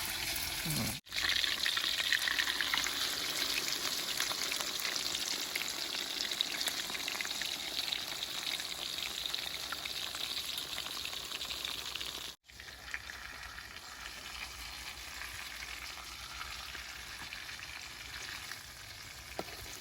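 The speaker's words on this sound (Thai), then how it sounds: "จากนั้นก็มาชุบไข่ใช่ไหม แล้วก็จะเอาลงทอดครับ" Egg-dipped fermented fish frying in oil, a steady loud sizzle with crackling spatter that runs almost continuously, broken by two brief gaps, with no voices over it.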